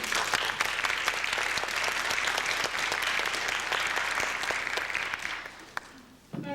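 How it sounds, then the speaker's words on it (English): Audience at a folk festival in Anchorage breaks into sustained, dense applause that carries on evenly for several seconds and then thins out near the end, with no voices over it. "So let's give a round of applause both for Paula and for Nora."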